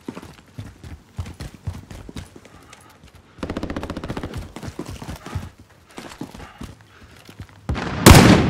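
Gunfire in the battle royale shooter Warzone: a rapid string of sharp automatic shots crackling through the first three seconds, then denser bursts and a heavy close blast near the end, with game effects around it.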